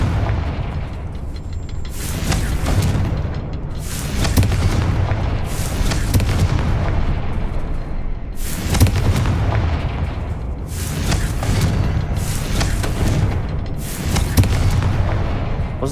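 Fire-spell explosions (Confringo) in Hogwarts Legacy burst out again and again, each a loud booming blast at an irregular pace over a steady low rumble of in-game background sound.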